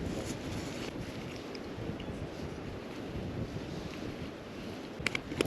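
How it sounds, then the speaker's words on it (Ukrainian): Wind of about five metres per second buffets the microphone in steady gusts at a lake, with a low, rough rumble and faint water sounds underneath, no one speaking. "Добрий вітер, 5 метрів в секунду перший."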